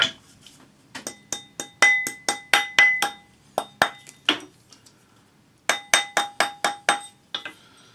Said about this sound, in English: back on your ring mandrel, and just gently hammer until you're close to the knot.